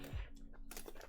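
A few quick keystrokes on a custom mechanical keyboard fitted with GMK Hiragana keycaps and Gateron XR1 switches, close and fairly quiet, with no talk.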